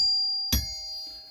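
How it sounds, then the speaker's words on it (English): A single doorbell chime sounds once, sharp and clear, with a thump as it is pressed. A faint ringing tone lingers on in a quiet room. "Always have to ring the doorbell"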